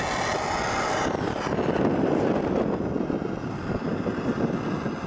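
An airplane passes overhead, its steady broadband engine roar loud and sustained, swelling slightly in the middle and holding throughout with no talk.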